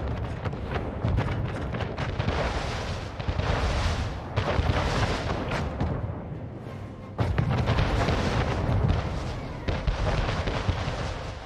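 Cannon fire pounds a main building and harbor in the strategy game Anno 1800, a dense, continuous barrage of booming blasts and rumbling impacts that stays loud throughout, with repeated bursts and no talking.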